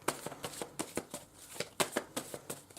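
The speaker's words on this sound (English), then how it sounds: "I don't normally have to shuffle this deck for so long." A deck of tarot cards being shuffled by hand, a quick series of crisp riffling bursts in an irregular rhythm, close and clear with no talking.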